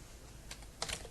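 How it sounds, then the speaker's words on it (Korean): Keys pressed on a computer keyboard while entering a name into Korean name-making software, with two brief bursts of clicks over a quiet room hum and no voices. "키보드의 한자 키를 눌러줍니다"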